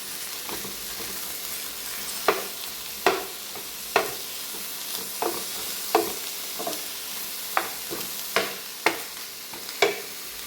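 Ivy gourd (kovakka) frying in a pan for a Kerala-style fry, a steady sizzle punctuated by about a dozen sharp scraping stirs at regular intervals, with no talking.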